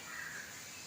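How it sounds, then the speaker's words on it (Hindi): A single crow caws once at a distance, a short hoarse call that stands out faintly over quiet outdoor ambience in a village setting. "कौवा आता है ना, आज भी यहाँ पे है ना"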